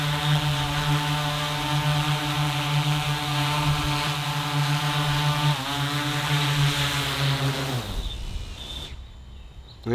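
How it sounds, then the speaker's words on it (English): An aircraft performs an automatic landing, a steady loud engine drone with a strong tonal hum lasting about eight seconds before it abruptly drops away into quieter hiss. "So now I'm going to just do an automatic landing."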